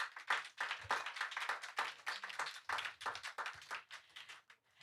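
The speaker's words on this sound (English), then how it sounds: "Give yourselves a round of applause." Steady applause from an audience, a dense wash of clapping that holds throughout and tapers slightly at the end.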